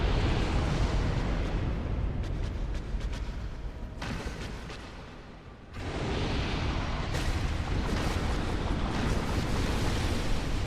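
A deep, rumbling explosion in the Dark Souls video game: a sustained broadband roar that briefly dips in the middle, then surges back at full strength, with no voices over it.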